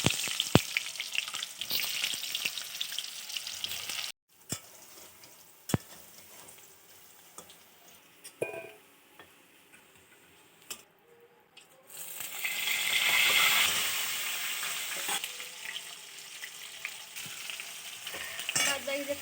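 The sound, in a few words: potatoes frying in plenty of oil with salt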